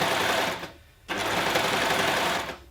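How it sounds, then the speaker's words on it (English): Overlocker sewing machine stitching a tiered dress or skirt, running steadily, pausing briefly, then whirring on again, close and loud with no talking. "I like to just disengage my blade at the end so I can just sew over those stitches"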